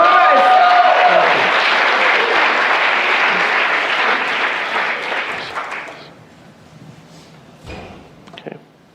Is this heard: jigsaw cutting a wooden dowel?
no